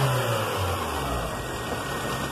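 A VW Logus with a 1.8 AP engine runs after cylinder head assembly, a steady droning idle with broad mechanical noise, close and continuous with no voices.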